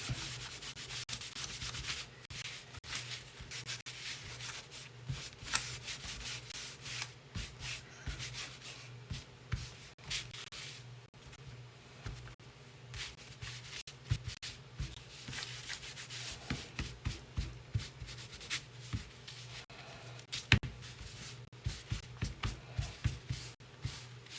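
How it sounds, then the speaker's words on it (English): Steady, close rubbing and scraping on wood continues throughout as a farmhouse Christmas bench insert is weathered for a rustic look, in uneven strokes with brief louder scrapes and no talk. "There I'm not rubbing with the grain"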